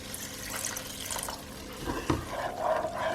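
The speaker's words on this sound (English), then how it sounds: "I'm going to add a little bit more water" Water pours into a pot of pork vindaloo gravy on the stove, a soft running splash with a few clinks and stirs near the end.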